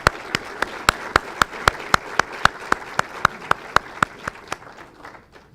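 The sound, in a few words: audience applause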